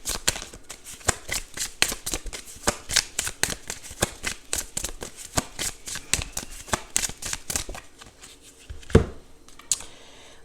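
Tarot cards riffle and snap in a rapid, steady shuffle, close and crisp, with a brief thump near the end and no voices.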